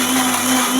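An electric kitchen mixer grinds coconut, peanuts, tomato and cumin into a paste for fish pulusu, giving a steady, loud motor whir with a strong hum that holds unbroken throughout.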